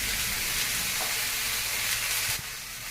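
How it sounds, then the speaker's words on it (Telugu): Ginger garlic paste frying in a pan for a jackfruit pulao, giving a steady close sizzle and hiss throughout with small stirring knocks near the end. "2 స్పూన్లు అల్లం వెల్లుల్లి పేస్ట్ వేయాలి. బాగా వేగనివ్వాలి."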